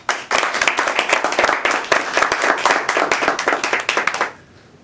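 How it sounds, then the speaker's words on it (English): Applause from a lecture audience on positive psychology, with dense, steady clapping for about four seconds before it cuts off sharply. "So let's have a nice round of applause."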